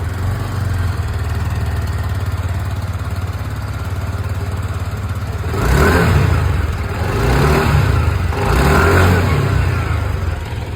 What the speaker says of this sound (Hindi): जो इंजन इसकी जो एग्जॉस्ट साउंड है वो भी सुना दूँ। और स्टार्ट करते हैं विद जुपिटर 125।